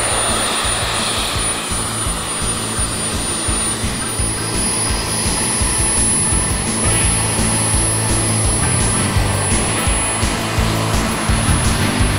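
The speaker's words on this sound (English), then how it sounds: "This particular aircraft, built by Norm Barclay from St Kilda in Victoria, is powered by a Ram 750 turbine" A radio-controlled model jet powered by a Ram 750 turbine whines steadily and loudly, with a sustained high-pitched turbine tone over a broad roar, heard at an outdoor flying event.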